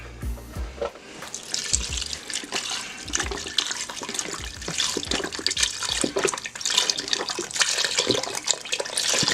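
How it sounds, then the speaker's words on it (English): About five cups of beef broth are poured into a Power Pressure Cooker XL, a continuous splashing, gurgling stream of liquid close by with uneven surges, beginning after a brief clunk. "We're going to add about 5 cups of beef broth to this."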